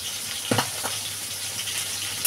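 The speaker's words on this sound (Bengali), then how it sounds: "অত বেশি কড়া করে ভাজবো না" Fish pieces frying lightly in oil in a pan for a curry with taro: a continuous close sizzle with a couple of sharper spits, no voices.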